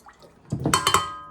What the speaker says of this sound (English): we're gonna put a 1/2 cup of vegetable oil in here